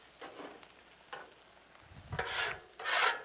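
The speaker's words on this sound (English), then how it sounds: "Clean our griddle up just a little bit." A metal scraper rasps across a Blackstone griddle during cleanup after cooking bacon, eggs and sausages, in about four short scraping strokes that grow louder toward the end, with no talk.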